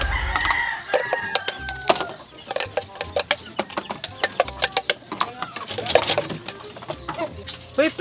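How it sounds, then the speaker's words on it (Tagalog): Chickens cluck in sharp bursts close by while a rooster crows near the start, a busy backyard flock with voices mixed in. "Kasi ito, nagpapakain ako ng manok."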